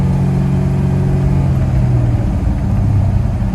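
A Chevrolet El Camino's engine runs steadily while driving in cold winter weather, producing a loud, continuous mid-pitched drone with a slight rise in revs and no voices over it.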